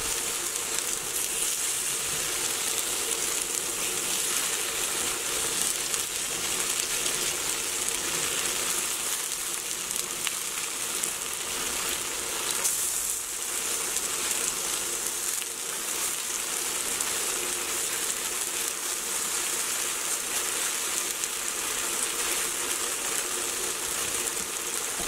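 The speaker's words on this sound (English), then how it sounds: "Once your tofu is browned on one side, you want to flip it over and let it brown on the other side as well." Tofu pan-fries and browns in a skillet, giving a steady, even sizzling hiss that holds for the whole stretch. It is moderately loud, with no voices.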